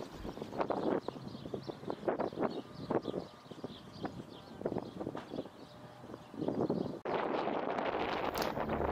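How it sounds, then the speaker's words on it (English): Gusty wind buffets the microphone in irregular rumbling bursts on Route 66 among windmills, loud and close, rising to a harsher steady roar near the end. "It's windy today."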